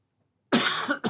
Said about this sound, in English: Got my cough, apologies.